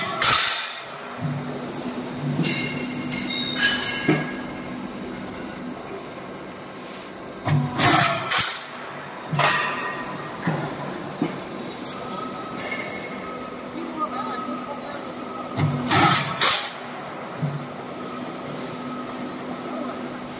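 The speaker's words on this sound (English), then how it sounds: "press the oil pump, click start, the machine can run automatically" A 760 IBR metal roofing sheet roll forming machine runs automatically, giving a steady mechanical drone with repeated loud clanking bursts as sheets are formed and cut, while a person talks briefly over it.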